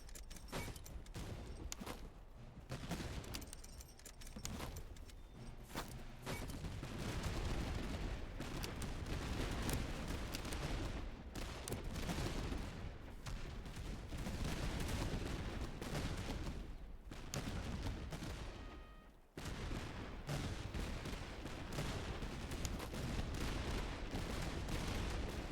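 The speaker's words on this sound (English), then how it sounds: "I think he can maybe fire a shot off" Dense rolling musket volleys and scattered shots from Austrian border troops in the video game Master of Command, a continuous loud battle roar with one short dip near the end.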